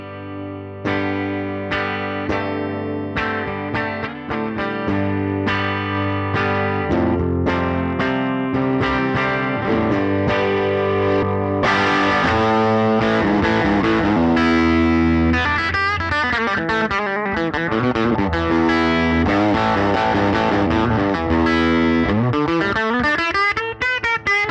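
An electric guitar plays loud sustained chords and melodic lines through a cranked Fender Super Reverb amplifier, thick with overdriven distortion and ringing sustain, continuous for the whole passage with no talk.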